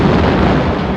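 A speedboat crashes into a ship and explodes in one loud, sustained boom that fills the whole moment.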